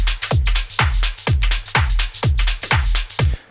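Club drums passed through parallel delay and reverb with only the high frequencies kept: a steady four-on-the-floor pulse of bright, washy hits with smeared echo tails, loud and rhythmic throughout.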